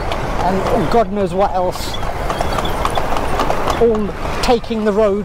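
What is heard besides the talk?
horse hooves clip-clopping pulling a cart in Lucknow traffic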